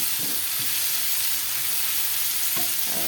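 Chopped garlic and onion frying in a little oil in a pan, giving a steady, loud close sizzle with a few soft stirring scrapes.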